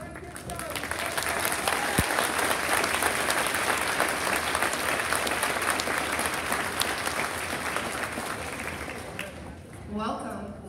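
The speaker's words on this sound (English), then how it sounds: "let's give a big round of applause to Miss Anderson" Sustained audience applause at a 4th grade school spring concert, loud and steady from start to finish with a brief lift near the end, a full room of clapping hands and scattered crowd noise.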